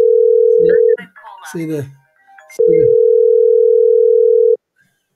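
A steady telephone ringback tone sounds as a call rings out to a new free phone number, broken by a short stretch of talking before the long tone resumes and then cuts off.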